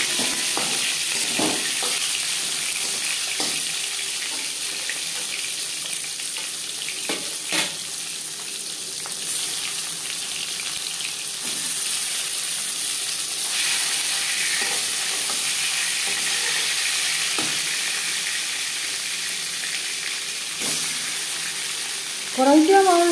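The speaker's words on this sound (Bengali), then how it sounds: "কড়াইতে আমার জায়গা আছে বলে আমি একবারেই মাছ ভেজে নিচ্ছি" Katla fish pieces, marinated, frying in hot mustard oil in a kadai: a steady close sizzle runs throughout with occasional soft clinks and stirring sounds, ending with a brief louder burst.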